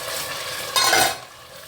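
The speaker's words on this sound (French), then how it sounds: "Je mélange." Potato purée is stirred in a pan with a spoon, giving a soft, wet scraping sound. It swells into a brief, louder swish near the middle, then settles back to a low background hiss.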